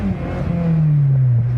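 A rebuilt Honda S2000 accelerates briefly, its engine note climbing steadily in a close, loud rev as the tires slip for lack of traction.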